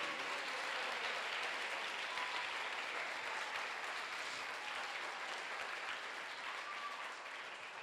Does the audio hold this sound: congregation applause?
yes